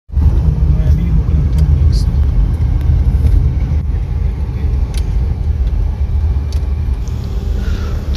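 A car drives along a road on the way to a bank, its steady engine rumble and road noise loud and continuous throughout with no other prominent sounds.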